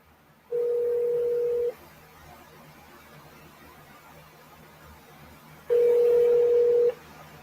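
Ringback tone on an outgoing call to a hospital, UPMC Presbyterian, going unanswered: two long, steady, moderately loud pulses about five seconds apart, with faint line hiss between them.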